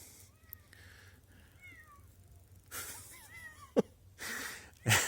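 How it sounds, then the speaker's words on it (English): A cat meows a few times, thin and wavering, near the bull pen on a hay farm, with a couple of louder wheezy or sneezing bursts toward the end over low background rumble. "It seemed weird to see a cat come across here."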